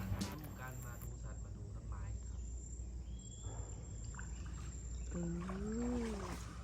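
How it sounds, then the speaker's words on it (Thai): Paddle strokes dip and trickle softly through the water as a small boat glides along the quiet, shaded Sang Nae canal in Phang Nga, Thailand. The light splashes stay faint against a hushed background, and a brief voice-like tone rises near the end. "จะได้ยินเสียงเฉพาะเสียงพายเรือของเราเท่านั้นเองค่ะ"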